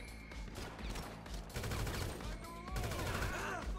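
Heavy gunfire from a powerful weapon in the video game GTA V, a dense, booming fusillade of rapid shots mixed with game noise and occasional voices, loud and continuous throughout.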